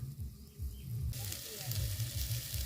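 Apta (wild vegetable) flowers are spread into a pan of spice masala, and a steady broadband sizzle rises sharply partway through and holds loud, with a low rumble of handling beneath.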